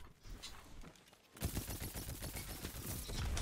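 Auto rifle firing in a first-person shooter video game, a quiet stretch of scattered noise giving way to a loud, rapid burst of continuous gunfire that holds to the end.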